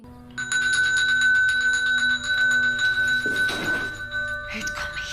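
A doorbell rings in a Doctor Who episode, a bright sustained chime ringing for several seconds with a dull thunk midway, fairly close and clear.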